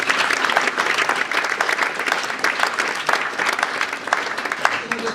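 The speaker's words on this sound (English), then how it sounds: "That's a round of applause moment right there." A live audience at a travel-industry launch event breaks into applause, a lively crowd clapping with uneven surges and scattered sharp individual claps standing out above the mass.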